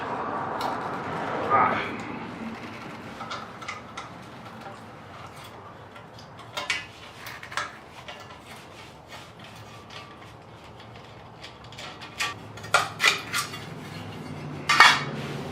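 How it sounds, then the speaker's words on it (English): Tools clink and tick against metal while a heat shield comes off a motorcycle's exhaust ahead of fitting a Remus Hexacone slip-on, with scattered close metallic taps and scrapes that cluster near the end. "First you take out the heat shield."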